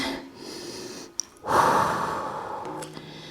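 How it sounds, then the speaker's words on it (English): Slow, deep breathing during a child's-pose stretch after a cardio and dumbbell workout, with one long audible exhale that fades gradually, close and fairly soft. "Breathe in and breathe out."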